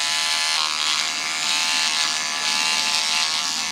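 An electric trimmer buzzes steadily and close as it cuts along a beard neckline during a barber trim, a constant bright whir with no talking.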